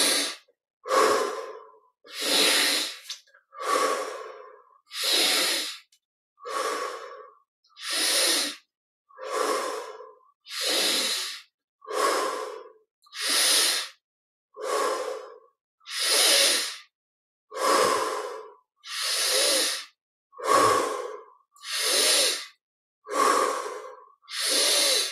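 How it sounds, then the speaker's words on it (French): Deep, slow breathing during guided meditation, in through the nose and out through the mouth, about twenty close, even breaths in a steady rhythm with quiet pauses between them and no talking. "Donc inspire par le nez, expire par la bouche."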